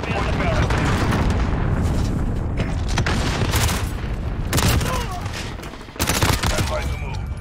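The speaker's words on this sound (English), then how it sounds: "Missile incoming!" Missile strike explosions and heavy gunfire in the Modern Warfare multiplayer hardpoint mode, a dense continuous barrage of booms and shots with sharp blasts near six seconds, under in-game voice callouts.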